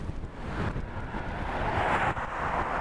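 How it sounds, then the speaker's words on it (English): Steady headwind buffeting the microphone while riding an electric bike through grassy open country, a constant loud rumbling roar with gusty swells and no talking. "Yep, that's a headwind for you."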